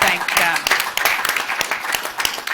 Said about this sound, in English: give everyone who's behind the scenes just a round of applause